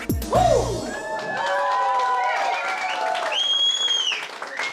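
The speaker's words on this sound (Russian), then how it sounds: "Дорогие аплодисменты еще раз, братья." Wedding guests applaud in a café hall while music plays, with clapping and crowd noise under sustained melodic tones and a few whoops, fairly loud and continuous.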